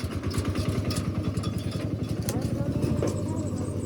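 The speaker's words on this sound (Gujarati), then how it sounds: "મિત્રો તો ફાઇનલી આપણું ટ્રેક્ટર આવી ગયું છે. આપણે નાનું ટ્રેક્ટર બોલાવ્યું છે ભરવા માટે." A small tractor engine runs steadily nearby with a rapid, even chugging beat and some mechanical clatter.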